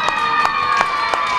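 A crowd at a fan-signing concert for a singer at a Kaohsiung Carrefour cheers and claps in steady rhythmic bursts, with sustained tones running underneath.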